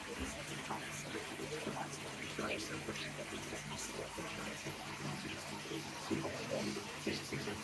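Water pouring steadily into an Aqueal Optiset 240 goldfish aquarium, a continuous rushing splash filling the tank with soft sloshing throughout, close and even in level, with people talking faintly over it.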